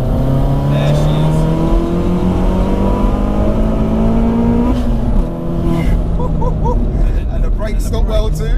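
Tuned 1.6-litre Corsa VXR, stage 4.5 at about 430 bhp, pulls hard in third gear, its engine note climbing steadily and loudly with a brief lift near the end, while occupants talk over it.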